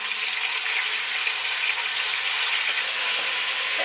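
Rabbit meat frying in hot oil, a steady dense sizzle with scattered pops and crackles, loud and close throughout with no talk.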